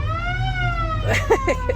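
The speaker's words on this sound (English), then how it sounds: "we'll do The horn, the siren" Siren of a Mayberry-style police squad car in Mount Airy, North Carolina, a steady rising-and-falling electronic wail that then breaks into short warbling horn-like bursts, loud and close over a low engine hum.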